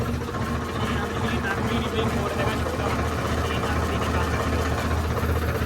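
A tractor engine idles with a steady, busy mechanical chatter and low knocking rumble, close up, with talking faintly mixed in.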